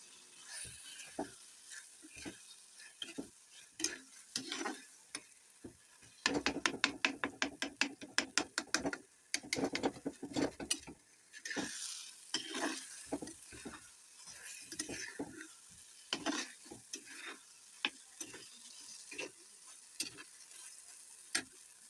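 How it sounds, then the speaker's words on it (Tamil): Mashed roasted brinjal is sautéed in a pan for a kuzhambu, with a spoon scraping and clattering against the pan in irregular strokes, a quick rapid flurry midway, and soft sizzling underneath. "நம்ம கத்திரிக்காய் மசிச்சு வச்சதை இதில் போட்டு வதக்கிடுவோம்."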